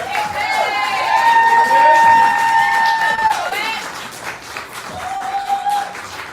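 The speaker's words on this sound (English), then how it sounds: "Keep the applause going for the next poet." A crowd at a poetry slam applauds and cheers, with loud whoops and sustained shouting over clapping that swells, then eases and rises again.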